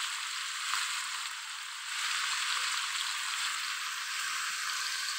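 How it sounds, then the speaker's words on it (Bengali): Paneer sizzling and frying in a pan, a steady loud hiss that runs without pause, with no voices over it. "পনিরটাকে আমি লাল করে ভেজে নেব।"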